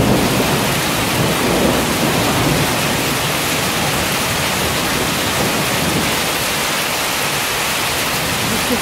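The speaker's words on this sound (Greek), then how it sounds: "Δυστυχώς είναι χαλάζι." A heavy rain and hail storm in Almyros roars as a loud, unbroken wall of dense pounding noise, with deep thunder rumbling low underneath throughout and no voices heard.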